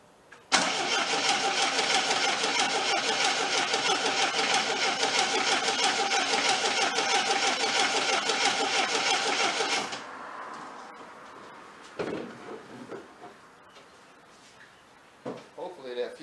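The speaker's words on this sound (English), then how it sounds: "So I'm gonna get in here and turn it over, and we'll see prime up. It might actually crank." An abandoned 1979 Triumph TR7 engine cranking over on the starter for about ten seconds without catching, a loud rhythmic churning whir up close, then it stops and faint clunks and movement follow.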